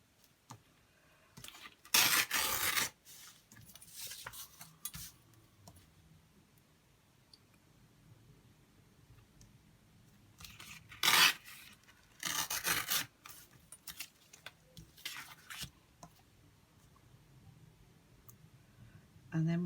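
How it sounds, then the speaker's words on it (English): Material is ripped along a straight steel edge in short, loud tearing bursts, about four strokes separated by quieter stretches of faint handling and rubbing noise, close by. "I'm just using a straight steel edge, and I'm just ripping it"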